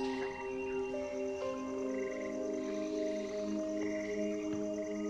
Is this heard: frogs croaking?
yes